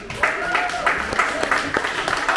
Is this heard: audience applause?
yes